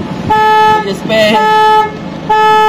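A car alarm sounds in loud, steady tonal bursts close by, broken by two short gaps, while a person speaks briefly over the middle of it.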